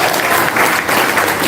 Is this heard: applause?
yes